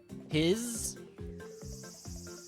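A high, steady video game cicada buzz drones over rhythmic pulsing music, opening with a short cat cry.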